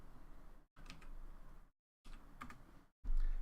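Bursts of rapid computer keyboard typing on a PC, three clusters of close, moderately loud key clicks separated by brief silences, with no voices.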